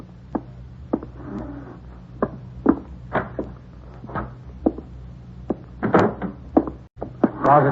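Cupboard and drawer thuds, knocks and slides in a radio drama search scene, a string of sharp close knocks and bumps with scraping between them over a steady low hum, no voices.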